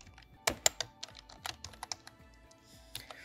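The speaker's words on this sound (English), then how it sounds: "Okay, so now we're going to type localhost again" Quick, light keystrokes on a computer keyboard while entering a localhost address during a WordPress and XAMPP install, a short burst of close, irregular clicks that fades to a few soft taps.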